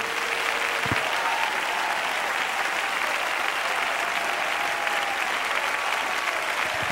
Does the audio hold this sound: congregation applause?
yes